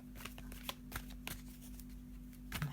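A deck of oracle cards is shuffled close by and quietly, with a series of soft riffling snaps and slaps over a faint steady hum.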